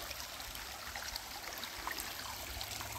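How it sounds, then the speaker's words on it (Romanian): A river flowing steadily nearby, a continuous broadband rush of water with faint trickling detail and no voices. "Ah, ce frumos curge râul ăsta."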